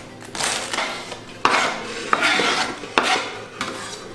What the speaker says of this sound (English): when you're cutting the cabbage